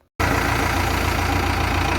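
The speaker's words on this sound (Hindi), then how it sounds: "इंजन की साउंड आप सुन सकते हो।" A 2018 model JCB 3DX backhoe loader diesel engine idling, starting abruptly from silence into a steady, loud, close rumble with an even knocking throb and no talk.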